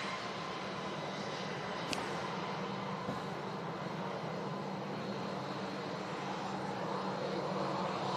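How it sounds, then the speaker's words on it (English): An easyJet airliner arriving at Manchester Airport in strong, gusty wind, a steady distant jet roar with broad rushing noise, faint and continuous, with one brief sharp click partway through. "Next arrival, EasyJet from Palma de Mallorca"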